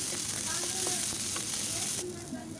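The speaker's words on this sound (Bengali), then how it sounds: "সাথে পেঁয়াজ দিয়ে একসাথে ভেজে নেব।" Chopped garlic and onion fry in hot oil in a kadai, giving a steady, close sizzle with faint stirring clicks. The sizzle eases slightly near the end.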